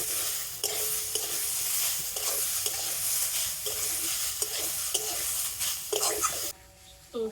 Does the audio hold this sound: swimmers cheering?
no